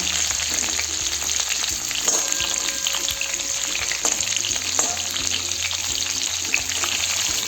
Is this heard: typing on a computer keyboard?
no